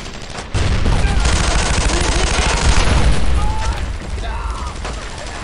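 Gunfire rattles in the World War II video game Brothers in Arms: Road to Hill 30 as a loud, sustained burst of rapid shots, heavy and close, easing off toward the end, with a voice faintly in the mix.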